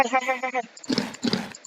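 Horse in the Minecraft video game, a short whinny followed by clip-clop hoofbeats, close and clear, with a voice speaking over it.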